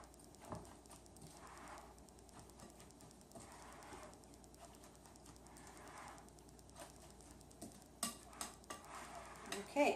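Salsa is stirred in a bowl, producing soft wet swishing and scraping with a spoon, quiet and close, with a few louder clinks of utensil against the bowl toward the end.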